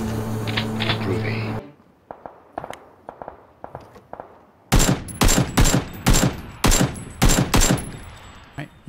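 Gunfire in the video game PUBG: after a stretch of voice, scattered single shots and short bursts crack, then a rapid run of loud, evenly spaced shots fires close by.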